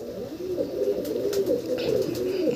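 A pigeon held close coos in a steady series of low, rolling throaty calls. Light rustling and a few soft clicks sit over the calls, with no one talking.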